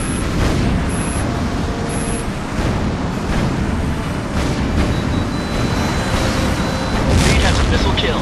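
A heavy, sustained rumble and roar of a missile explosion in Tom Clancy's H.A.W.X., loud and continuous amid jet and battle noise, with radio chatter layered over it.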